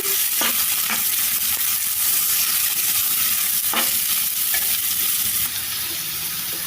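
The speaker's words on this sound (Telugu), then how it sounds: "ఇప్పుడు దీంట్లో మనం కట్ చేసి ఉంచుకున్న దొండకాయ ముక్కలన్నీ వేసుకోవాలి ఒకసారి కలిపేసుకోవాలి" Pieces of ivy gourd fry in a hot pan, giving a loud, steady sizzle broken by a few sharp scrapes and knocks of stirring, with no voices.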